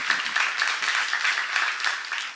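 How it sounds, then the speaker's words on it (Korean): Church congregation clapping during a sermon, a short burst of many hands at moderate volume, continuous and unaccompanied by speech. "박수하세요."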